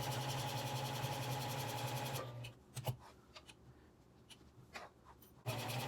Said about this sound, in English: But for me, I'm gonna stitch right at the top.